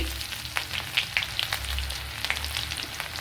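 Mustard seeds sizzling in about a tablespoon of hot oil in a pan while cooking soya chunks varuval, a loud, close, steady frying hiss dotted with quick crackling pops, with no talking.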